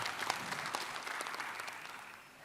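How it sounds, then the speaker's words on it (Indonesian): An audience at a public debate for the 2024 regional election in Teluk Bintuni, West Papua, claps steadily for a candidate pair, a fairly faint but continuous wash of applause from start to finish. "Kita berikan tepuk tangan untuk pasangan nomor urut 1."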